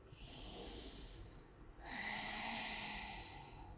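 Slow, deep breaths during a yoga session: a long airy inhale, a brief pause, then another drawn-out breath, close and quiet with no talking.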